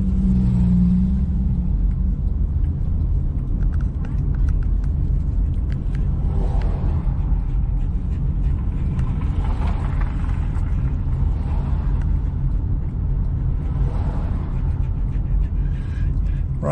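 A car engine rumbles low and continuous near a trailhead at Santiam Pass, Oregon, with faint whooshing swells rising over the constant drone.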